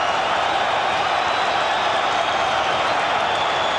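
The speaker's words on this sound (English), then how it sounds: "The crowd is chanting between rounds." Steady roar of a large boxing crowd between rounds at the Convention Center in Atlantic City, a continuous dense wash of voices and cheering with no breaks.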